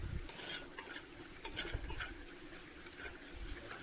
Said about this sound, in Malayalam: ഇനി പൊടി ഒന്ന് മൂക്കുന്നവരെ ഒന്ന് മിക്സ് ചെയ്താൽ മാത്രം മതി.